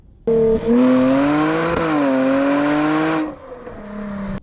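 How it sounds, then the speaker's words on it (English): A supercharged V6 engine in a Jaguar F-Pace revs hard, holding a high-pitched supercharger whine over its roar, then eases off and settles to a lower hum before cutting out. "You could hear the supercharger whine."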